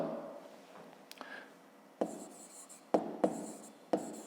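Pen or pencil writing out a fifth-grade maths exercise on paper: soft scratchy strokes with a few sharper taps, close and quiet, with no talking.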